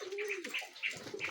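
Pigeons cooing in a loft, soft throaty coos repeated several times with faint chirps and light movement nearby, quiet and close with no talking.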